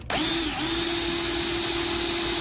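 A sharp drill bit bores through a broken screw in a pinball machine flipper assembly, a steady loud whine with a rising pitch sweep near the start, then holding one sustained tone throughout.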